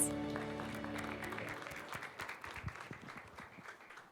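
A church congregation at a Baptist worship service applauds, the clapping rising out of a fading sustained music chord and carrying on steadily at moderate volume throughout.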